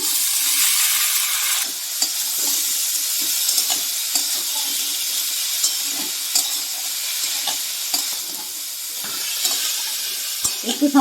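Two kinds of washed lentils sizzle and crackle in a pan of fried tomato spice masala, a loud continuous frying hiss broken by repeated scraping stirs and small pops, with no talking.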